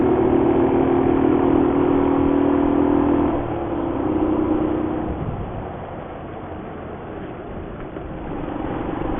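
Small motorcycle engines labour up a steep mountain road in northern Thailand, a steady loud drone that dips in pitch and volume partway through as the climb continues, with no one speaking.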